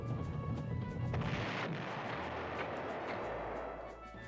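Italian artillery fires in the PlayStation Panzer General game. A deep boom and a crackling blast roll out at full volume, then fade away, with game music lingering underneath.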